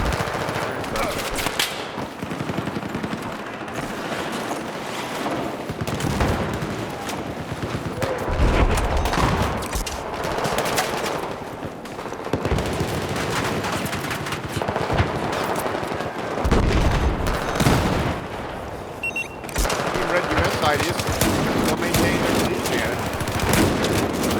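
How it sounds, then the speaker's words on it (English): Dense gunfire, shotgun blasts among it, fills a 32v32 video game battle, with bursts and volleys continuing almost without pause while a commentator talks over the action. "Shot by Brecky with a shotgun."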